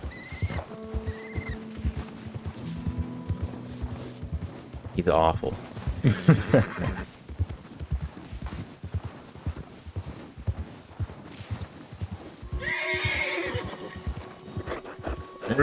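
Horse hooves clip-clopping at a steady walking rhythm in Red Dead Redemption 2, with a couple of loud whinnying neighs standing out near the middle and end, and someone talking briefly over it.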